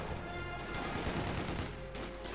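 Gunfire in the WWII strategy game Company of Heroes 2, with rifle squads firing bolt-action rifles at Grenadiers: a dense, continuous crackle of shots and battle noise, loud and steady throughout with no talking.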